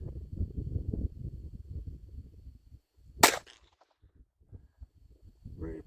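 A single sharp gunshot from a Colt Woodsman pistol fired at a steel plate target, a loud isolated crack following a stretch of low outdoor rumble and handling noise.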